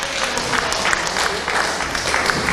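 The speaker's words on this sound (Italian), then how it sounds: "con gli applausi per Gabriele Schintu e Salvatore Concas" Crowd applause at a regional schoolboy boxing championship bout after the first round, a dense continuous patter of clapping filling the hall at moderate loudness.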